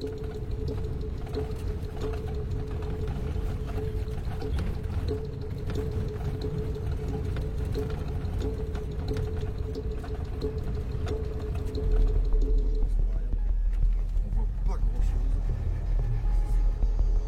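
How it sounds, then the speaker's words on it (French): A Russian van lurches over a rocky steppe in Mongolia, its engine a steady low rumble with scattered knocks and jolts, growing heavier and deeper near the end. "le véhicule tangue et saute sur les rochers et dans les creux des steppes"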